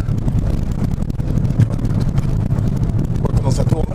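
A Renault Mégane RS engine running, a loud steady low rumble heard from inside the car with wind noise, and someone talking over it.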